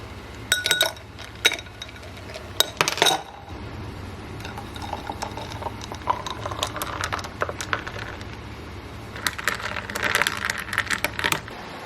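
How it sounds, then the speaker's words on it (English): A spoon clinks against a glass while sugar is stirred in for an iced latte, a few bright taps up front followed by softer scraping and swirling, close and without talk. "before I put the ice in, I mix the sugar so it can dissolve"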